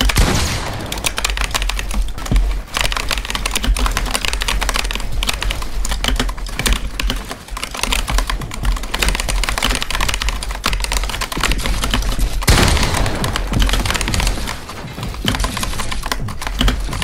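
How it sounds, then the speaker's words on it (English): Rapid, dense computer keyboard typing clatters continuously and loudly for the whole stretch, a frantic rattle of keystrokes with a brief break near the end. "the keyboard sound is killing me"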